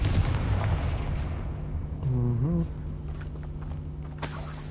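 A Confringo fire spell blasts in the Hogwarts Legacy video game with a heavy, booming impact, a brief rising magical whoosh, then a crackling tail that fades into the game's ambience.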